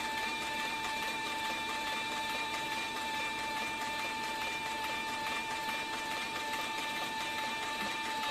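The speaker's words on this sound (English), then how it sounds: "As you can see, the machine just takes off and" A Hightext CB4500 industrial upholstery sewing machine runs smoothly and continuously, giving a quiet, even mechanical whir with a steady tonal hum and no pauses.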